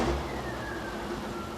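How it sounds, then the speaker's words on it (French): A racing convertible car drives steadily with a continuous low engine drone and a faint rising whine, heard close and fairly quiet with no talk. "qu'il est encore préférable que ce soit Norman qui prenne le volant du cabriolet racing"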